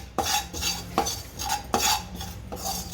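Cumin seeds are dry-roasted in a pan for niger seed chutney powder, with close, repeated scraping and clinking of a spatula against the pan in an uneven stirring rhythm.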